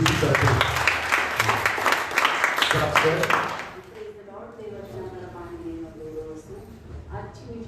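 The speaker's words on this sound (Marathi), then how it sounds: "आपण जोरात टाळ्या वाजवून प्रभू येशूची करतो" A church congregation claps loudly and densely during a Palm Sunday prayer service. The applause lasts about four seconds, then stops, and someone speaks.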